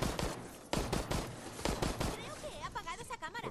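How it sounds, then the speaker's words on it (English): Gunshots in the multiplayer survival horror game Resident Evil Resistance, aimed at a surveillance camera: several sharp, loud shots in quick irregular bursts, followed by warbling electronic game tones near the end. "Shoot the camera, shoot it out"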